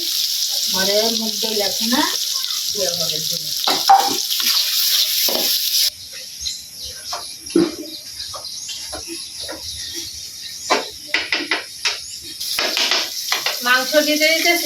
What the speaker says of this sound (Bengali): আলু দিয়ে রসুন দিয়ে দিতেছি মাংস দিতে দিতেছি